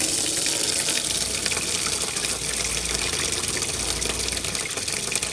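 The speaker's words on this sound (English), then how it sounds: "So let's put water in the tank." Water rushes steadily from a hose into an RV's water tank, a loud continuous gushing flow from start to finish with no talk.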